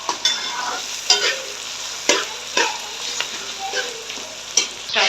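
Tomatoes and ginger-garlic paste fry in a pan while being stirred. A steady, close sizzle runs throughout, and repeated scraping strokes of the spoon arrive roughly every second. No one speaks.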